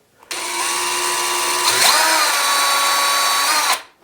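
A power drill with a 1/16 inch bit whirs steadily for about three seconds while drilling a small hole for a smoke detector, its pitch shifting briefly midway as the bit bites in, close and loud.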